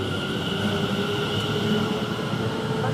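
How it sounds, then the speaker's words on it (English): A passenger train bound from London Liverpool Street to Braintree pulls out of Chelmsford station, a steady, fairly close rolling rumble with a faint whine of wheels and motors. "Now the 12:22 from London Liverpool Street to Braintree, just leaving"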